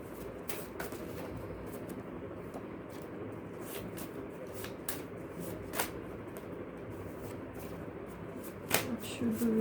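Tarot cards shuffled by hand in a steady stream of soft riffles and crisp snaps, close and fairly quiet over a low background hum.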